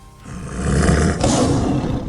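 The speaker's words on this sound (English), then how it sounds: "The mayor roars" A loud, sustained beast-like roar from the mayor character during a Dungeons & Dragons session, swelling over about two seconds with a brief dip midway, heard alone.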